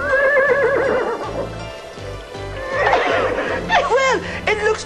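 A horse neighs loudly with a shaky, descending whinny, followed by several shorter whinnies and snickers over light music, close and clear.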